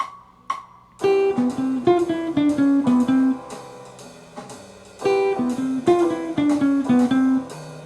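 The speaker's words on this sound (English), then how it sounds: "And then the last one is a 3-note enclosure" Jazz performance of a three-note enclosure lick, played close and clear: a few quiet pickup notes, then two bright, chord-backed phrases of quick stepping notes that land on a held tone, a brief pause between them.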